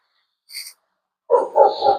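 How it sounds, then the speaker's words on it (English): A neighbor's dog barks from a garden, a short yelp followed by a burst of several louder barks close together, with quiet in between and no talk. "so you hear the chuck and all of that, and the dog barking"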